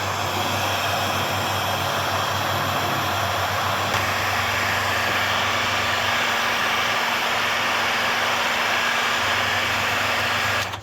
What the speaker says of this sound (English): heat it with a heat gun, and then this stuff starts to melt and like infuses into the wires.